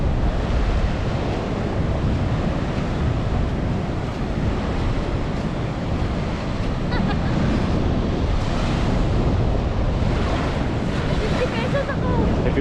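Sea waves roll in at a beach resort on the West Philippine Sea, a loud continuous surf wash with heavy wind noise on the microphone and faint voices now and then underneath.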